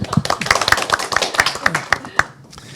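Audience at an academic real-estate conference clapping in a brief scattered burst of individual claps, with a voice speaking over the start.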